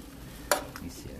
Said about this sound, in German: Erstmal umrühren hier.